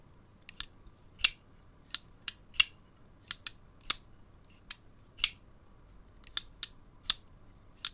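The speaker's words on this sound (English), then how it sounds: "But yeah, action's really nice. Good acoustics, nice and snappy." Vosteed Shillin Cutter folding knife with a button lock flicked open and shut repeatedly, sharp snappy clicks scattered irregularly over quiet background, close up.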